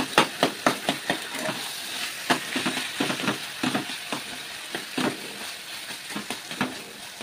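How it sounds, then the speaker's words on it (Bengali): Boiled taro leaves stirred in a tempered pan, a rapid series of sharp spatula taps and scrapes over a soft steady sizzle, close and rhythmic, with no talk. "একটু নাড়াচাড়া করছি"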